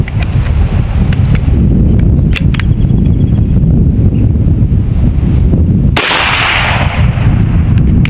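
An M50 PCP air pistol fires once at an outdoor range, a single sharp report near the end standing out against heavy, constant wind rumble.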